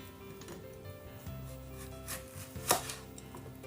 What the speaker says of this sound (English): Cut cucumber.